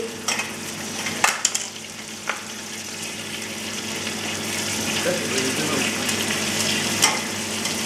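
Saint-Pierre (John Dory) fish bones sizzle and crackle steadily in a hot pan as they start a fish stock. A few sharp clatters sound as bones drop in, and the hiss continues beneath it all.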